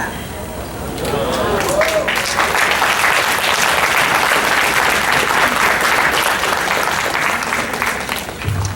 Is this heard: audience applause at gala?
yes